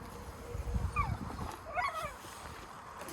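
Northern wolf or wolfdog puppies let out short, high whimpers and whines close by, with a few quick yips in a brief burst.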